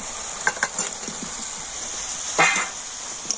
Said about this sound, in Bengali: আর এবার আমি ভেজে রাখা আলুটা দিয়ে দেব।